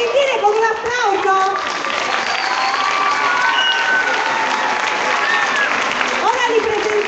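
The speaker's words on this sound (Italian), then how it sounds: "un applauso." Audience applause and cheering fill a Snow White stage show, a steady dense clatter of clapping with children's shouts and voices mixed in throughout.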